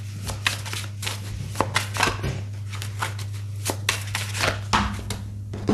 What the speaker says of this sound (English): These cards are new, so they're still a bit difficult to shuffle here